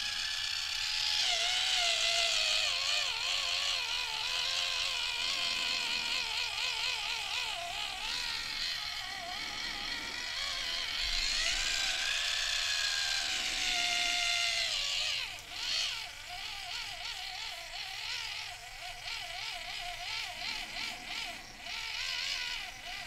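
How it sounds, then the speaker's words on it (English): A motorized spinning makeup brush whirs continuously up close in a quiet ASMR setting, a thin buzzing hum with wavering pitch that shifts and pulses as it is pressed and moved. "I'm going to put it on a bit of a spin brush."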